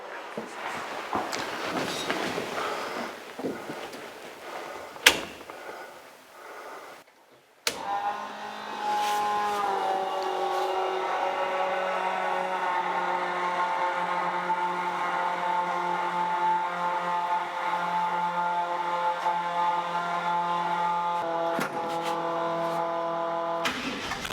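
A 1949 Chevrolet Gasser engine fires up once the fuel pump is switched on, starting after a short gap and settling into a steady, loud, droning run with strong low harmonics that carries on alone.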